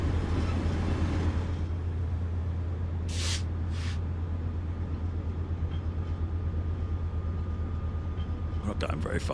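A simulated train driving at a leisurely pace on the Antelope Valley Line in Train Sim World 4, a steady low engine drone with a couple of brief hissing bursts and faint clatter toward the end.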